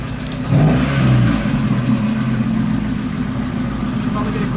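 Mazda Miata engine with a modified exhaust revs up loudly under throttle, a swelling roar that settles into a steady loud drone, with a voice talking briefly over it.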